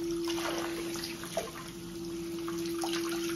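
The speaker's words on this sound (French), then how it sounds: "Donc 15 minutes après, on va commencer à les rincer." Running water pours steadily as a pair of black Nike TN sneakers is rinsed under a tap. A continuous, close splashing stream fills the clip with no voices.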